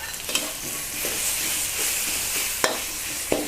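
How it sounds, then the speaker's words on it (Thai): Minced pork stir-fried in a hot pan, a steady sizzle broken by a few sharp scrapes of the spatula, close and alone. "ใส่หมูสับค่ะที่เราเตรียมไว้ ลงไปผัดเลย"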